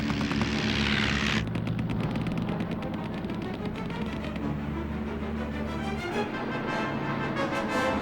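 A WWI-era aircraft engine drones overhead with a rough, pulsing propeller beat, loud and continuous, opening with a burst of hissing noise before settling into a throbbing rumble.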